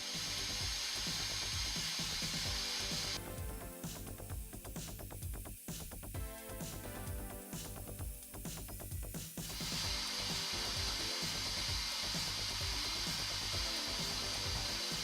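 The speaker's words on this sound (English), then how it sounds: "I'm going to start blasting the handle to remove the old varnish and anything else that shouldn't be on there" Abrasive blaster stripping old varnish from the wooden handle of a 110-year-old hand saw: a loud, steady hissing roar that runs the whole time, turning harsher and grittier through the middle stretch, with no voices.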